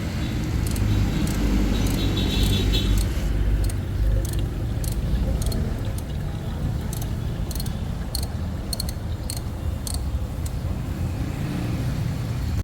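A Ford EcoSport with an overheating problem, its engine running at idle around 800 rpm: a steady, loud, low rumble throughout, with faint, irregular clicks and ticks layered above it and no speech.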